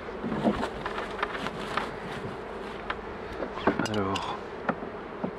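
Honeybees buzz around open beehives in spring, a steady close hum under someone speaking French, with occasional louder passes of individual bees.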